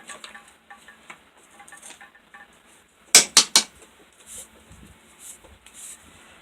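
Paint being stirred in a can, with soft scraping and knocking, then three quick loud metallic clanks close by, followed by quieter taps.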